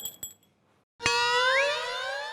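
A single loud bell strike rings out after a brief near-silence, its bright metallic tone sustaining and slowly fading, with a slight wavering pitch as it hangs. It is a comic sound effect played alone, with no voices over it.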